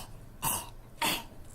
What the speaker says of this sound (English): Coughing up a hairball isn't always easy.